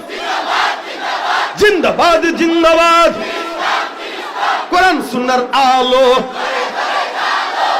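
A large crowd at an Islamic mahfil gathering roars a slogan in unison in two loud surges, answering a leader's call with a massed shout that rises over the voices.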